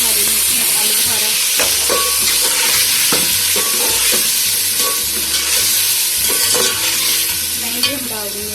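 Garam masala, ginger-garlic paste, tomatoes and green chillies fry and get stirred in a pan for chicken yakhni pulao, a loud continuous sizzle with steady hiss and occasional scraping clinks of the spoon.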